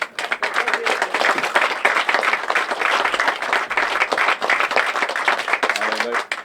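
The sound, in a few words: applause at golf club prize presentation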